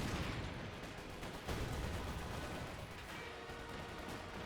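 A rocket artillery barrage from the Iron Mattress in Company of Heroes 2 produces a dense, faint, distant rumble of overlapping blasts and whooshes that runs throughout the brief stretch.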